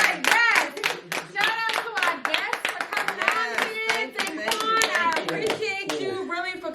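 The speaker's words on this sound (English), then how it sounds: "Clap it up for the conversation" Several people clap for a podcast conversation, brisk and close, with uneven overlapping claps and excited voices mixed in throughout.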